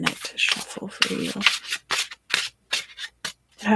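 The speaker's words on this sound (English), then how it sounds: "It's just going to take me a minute to shuffle for you." A deck of tarot cards is shuffled in a quiet ASMR setting, with bursts of crisp papery riffling and rubbing separated by short silent gaps, close and fairly loud.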